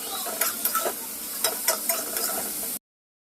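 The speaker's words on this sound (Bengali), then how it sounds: "মাছগুলোকে আমি এই মশলাটার সাথে ভালো করে নেড়ে চেড়ে নেবো, যাতে মাছগুলোর মধ্যে মশলাটা," Pomfret fish pieces are stirred into cooked masala in a hot pan: a close, continuous sizzle broken by several sharp scraping strokes of a spoon, stopping abruptly near the end.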